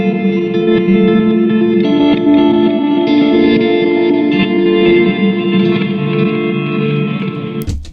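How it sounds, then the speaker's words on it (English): Electric guitar drenched in reverse reverb and reverse delay, swelling sustained chords with backward-blooming washes, loud and continuous, no talking. "So this is reverse reverb and reverse delay."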